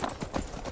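Horse hooves clip-clop in the Skyrim video game, a brief run of quick, close hoof beats under game ambience.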